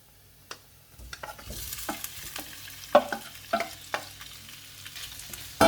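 Shrimp tipped into a frying pan with garlic and stirred, a soft low sizzle broken by sharp utensil scrapes and clicks at irregular intervals.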